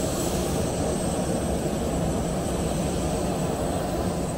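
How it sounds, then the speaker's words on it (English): A research aircraft's engine drones steadily at the busy end of an airport, a continuous broadband roar with a faint high whine above it, holding even and fairly loud throughout. "busy end of the airport where you can hear there is a research aircraft in the background"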